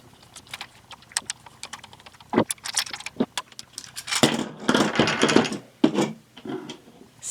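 A screwdriver opens a TOMY DingBot toy, giving close small clicks, taps and scraping rattles of plastic parts in an irregular rhythm, with no talk.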